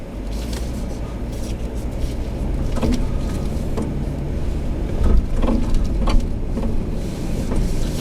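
A Lexus LX570 in crawl control climbs a trail hill. A steady mechanical drone and whir comes from the vehicle, with occasional thumps and creaks as it crawls, heard from inside at a constant loud level.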